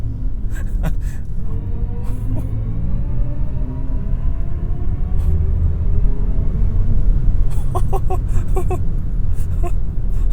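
A BMW i4 eDrive40 electric sedan accelerates hard, its steady low road and motor rumble filling the cabin throughout, with brief excited gasps and exclamations from occupants in the middle and near the end.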